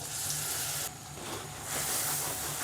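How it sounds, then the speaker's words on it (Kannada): Flour roasting in butter in a pan for mac and cheese gives a steady, close sizzle and hiss that swells slightly toward the end, with no talking. "ಬಟರ್ ಒಳಗೆ ಮೈದಾನ ಒಂದು 2 ಚಮಚ ಚಲೋ ಹುರ್ಕೊಂಡ್ರಿ"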